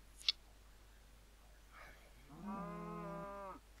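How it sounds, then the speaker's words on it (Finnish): Cows moo in the video game Minecraft: one long, drawn-out low moo stands out clearly near the end, preceded by a sharp tick and a faint brief sound, all in a quiet game setting. "On aika paljon lehmiä."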